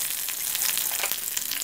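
Chopped green chillies fry in hot sesame oil with a steady, close crackling sizzle and small bursts of popping, with no talking.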